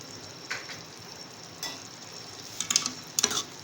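Yogurt being stirred into frying minced meat keema in a pan, a soft steady sizzle beneath occasional scraping and clinking of a spoon against the pot, with a few sharper taps toward the end.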